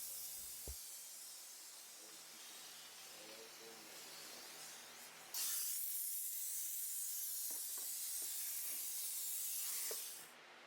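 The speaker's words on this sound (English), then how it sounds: "by the time I steam up the whole door panel area" A loud steady hiss of a steam cleaner spraying a car door panel starts abruptly midway and runs for several seconds before cutting off, with faint handling sounds beneath.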